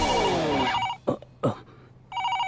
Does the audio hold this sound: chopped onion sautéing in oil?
no